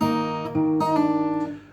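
A fingerstyle acoustic guitar rings out as a finger pulls off a fretted string to sound a lower note, giving a few clear sustained plucked tones in close succession with no talking.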